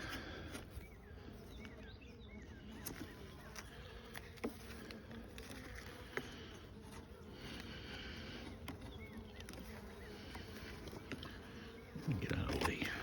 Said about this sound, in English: That's what bees do.